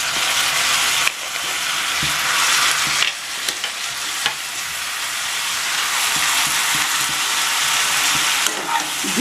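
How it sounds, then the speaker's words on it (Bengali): Banana flower ghonto, a vegetarian Bengali dish, sautés in a hot pan with a loud, constant sizzle broken by a few scraping stirs and spatula taps, close up and without talk. "দিয়ে ভালো করে কষিয়ে নিচ্ছি আবার"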